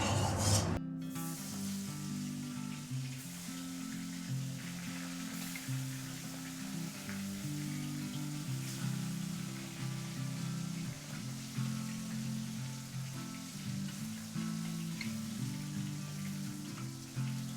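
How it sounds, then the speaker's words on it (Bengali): Koi fish frying in hot mustard oil in a kadai, a steady, dense crackling sizzle that begins abruptly after a brief sharp sound and continues loud and unbroken throughout. "মাছ ভেজে নেবো"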